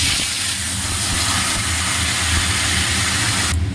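Panch phoron tempering fried in oil and poured into a simmering curry, giving a loud, continuous broad hiss and sizzle that cuts off sharply at the end, with no talking.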